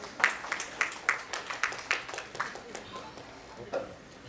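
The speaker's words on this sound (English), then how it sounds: "Let us all welcome her with a huge round of applause" Audience at an education leadership summit inauguration applauding to welcome a speaker, a run of distinct claps in an indoor hall that thins out toward the end.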